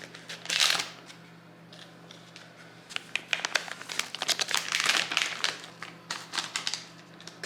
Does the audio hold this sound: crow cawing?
no